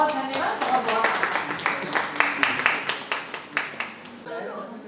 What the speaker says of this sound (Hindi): सुश्री शिवांगी सिंह सिकरवार, एक बार जोरदार तालियों के साथ इनको सम्मानित करते हुए हमारे मंचासीन अतिथिगण